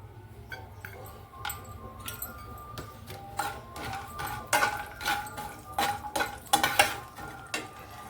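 Vadiyalu, sun-dried crisps, frying in oil in a home kitchen, a crackling sizzle with sharp clinks and stirring knocks of a utensil against the pan, growing busier and louder toward the end.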